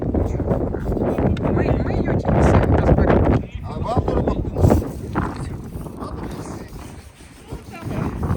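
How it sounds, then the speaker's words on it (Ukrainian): Wind blowing outdoors in a village farmyard during pig butchering, buffeting the microphone as loud, rumbling gusts, with people talking over it. "Тут вітер такий."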